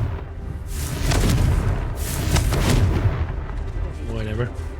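A Confringo fire spell in the game Hogwarts Legacy goes off in loud, heavy booming blasts, several in quick succession, with a rumbling burst near the start and another around the middle.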